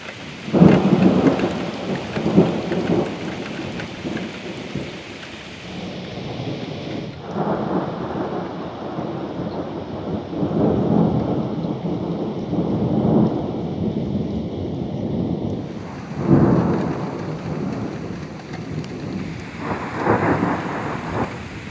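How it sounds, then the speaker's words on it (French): A thunderstorm over northern France with steady rain falling, broken by several deep rolling thunderclaps, loud and close, without any voices. "des orages ont pu se développer sur le nord du pays, et notamment dans le département de la Somme"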